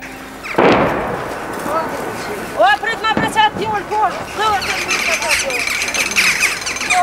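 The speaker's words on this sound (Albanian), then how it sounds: "Dëgjot bombardimet e artilerisë serbe" Serbian artillery bombardment in wartime Kosovo rumbles as distant booms and bursts inside a constant noisy background, with people talking over the top throughout.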